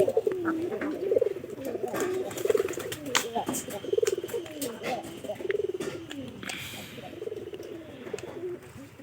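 Pigeons coo repeatedly in soft, throaty, rolling calls close by, with occasional clicks and shuffling around them.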